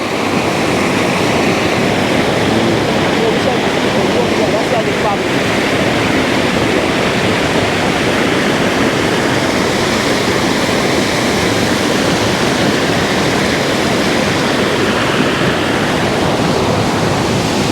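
Victoria Falls roars as a loud, unbroken wall of rushing, crashing water, heard up close and steady throughout with no voices over it.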